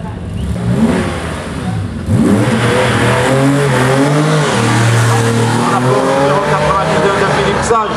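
A Porsche race car accelerates hard up a historic hill climb course, its engine revving loud and close with rising pitch sweeps across the run while a commentator talks over it.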